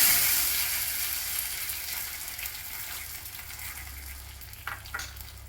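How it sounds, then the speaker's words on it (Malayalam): Tempering of fried mustard seeds, dried red chilies and curry leaves hits hot rasam with a loud, steady sizzle and crackle that slowly fades, with a couple of sharper spits and pops near the end; no talking. "ഇതിലേക്ക് നമ്മൾ വറുത്ത ഈ കടുക് വറ്റൽമുളക് കറിവേപ്പില ഇതിലേക്ക് ഒഴിച്ചു കൊടുക്കാം"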